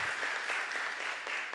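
A church congregation claps for a woman pastor, a brief, dense burst of applause at a fairly even level with no voices over it.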